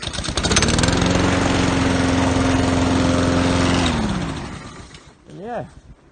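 A Honda OHC 135cc lawn mower engine starts and runs loudly and steadily close by for several seconds, then cuts out and winds down, followed by a brief rising and falling whir.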